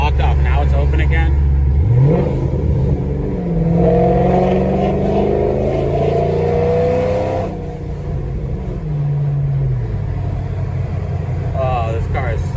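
A cammed Ford Mustang's engine pulls through a short acceleration, its loud, rising drone sweeping upward and then settling, up close with a voice talking over it.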